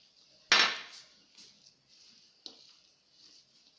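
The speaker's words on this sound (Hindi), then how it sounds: "हम अब इससे डबल रोटी को मैश कर लेते हैं।" Bread slices being mashed in a bowl for chicken seekh kebab, a sharp utensil knock followed by a few soft scraping and pressing sounds, one more clack midway, close and fairly quiet with no talking.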